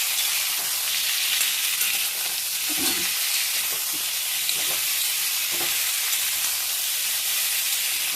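Potato and drumstick pods fry in a pan with a steady, close sizzle and hiss, broken by a few soft stirring knocks.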